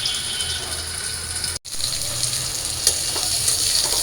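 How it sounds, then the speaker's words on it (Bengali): Fish fries in hot oil in a home kitchen: a steady, close, loud sizzle that drops out briefly, then carries on with a few sharper pops. "তো বাকি মাছগুলো ভাইজে নিই"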